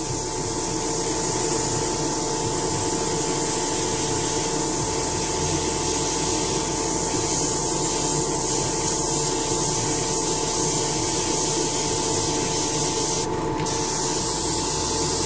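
An airbrush sprays paint steadily at full flow for preshading a model command cruiser, a continuous close hiss running unbroken throughout with no voices.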